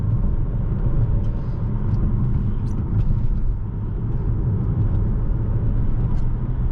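Alfa Romeo Tonale accelerating in manual mode in first gear, a steady loud low engine rumble with road noise heard from inside the cabin, no talking.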